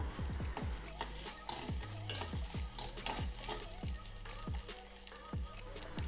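Sliced green chillies sautéed in a pan with sautéed onions for a ripe mango dish, a low sizzle broken by repeated rhythmic scraping strokes of a spatula, close and unaccompanied by talk.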